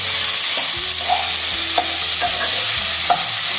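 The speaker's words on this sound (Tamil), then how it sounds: "இதெல்லாம் அடிச்சு நல்லா வதங்கிட்டே இருக்கணும்" Ridge gourd and peanuts sizzle steadily in a hot pan, with a spatula scraping and tapping the metal every half second or so, close and without talk.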